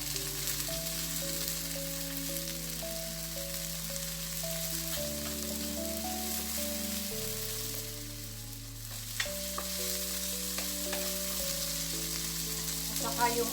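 Onion and tomato sautéing in a pan for beef kare-kare, a constant sizzle and crackle of frying with occasional stirring clatter, heard up close under steady background music.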